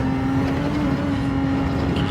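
A car accelerating in Gran Turismo 7 with manual shifting and traction control off, a continuous steady engine drone with a sustained tonal whine, close and loud with no talk.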